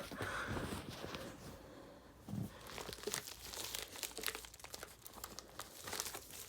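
Crinkling and tearing of packaging material, close and steady, with scattered crunchy rustles and a few sharper rips throughout.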